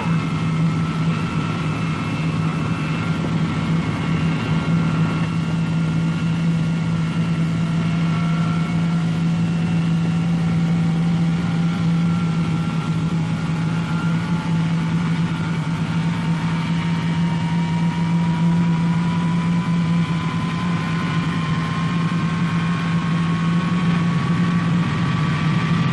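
Engine number four of a Boeing B-47 Stratojet bomber starts up, a jet turbine whine rising steadily in pitch over a loud, constant low drone with no talk.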